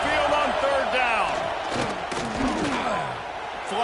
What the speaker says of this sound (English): The Tide crowd roaring noise down onto Saban Field on 3rd down.